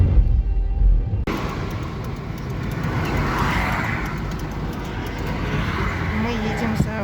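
A car drives along with steady road and tire rumble from inside the cabin. The noise is continuous, and a brief louder burst at the start cuts over to a smoother drone.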